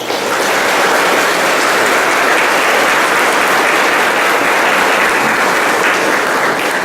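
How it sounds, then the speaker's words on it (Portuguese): A church congregation at São Tiago in Cabeçuda, Laguna, gives a warm welcoming round of applause, a loud, dense and steady clapping that holds for the full seven seconds. "com uma calorosa salva de palmas de boas-vindas"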